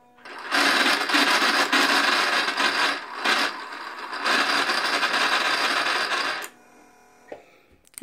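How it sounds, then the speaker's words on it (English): A Bernina Activa 130 sewing machine winds thread from one metal bobbin onto another with a loud, harsh whirring rattle in two long bursts broken by a brief pause, ending with a few quiet clicks. "Making all that noise because I'm going from a metal bobbin to another metal bobbin"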